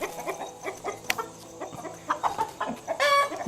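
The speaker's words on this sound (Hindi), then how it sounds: "ये जो मैंने हाथ में वैरायटी पकड़ी हुई है मुर्गी की, इसको ससेक्स बोलते हैं, SUSSEX।" A Sussex hen, a chicken breed from the UK, clucks repeatedly on a farm, with short irregular calls and a louder squawk near the end.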